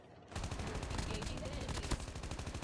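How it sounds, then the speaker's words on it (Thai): Rapid automatic gunfire in the Call of Duty Mobile video game, a fast steady burst of shots after a brief quiet start, fairly faint overall with one sharper crack near the end. "เฮ้ยมีคนยิงอ่ะเอา"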